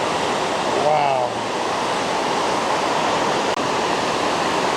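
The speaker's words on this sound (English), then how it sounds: "if you guys can see right below this waterfall" A waterfall in the Austrian Alps roars as a steady, dense wash of rushing water, close and loud, with a brief voice heard over it near the start.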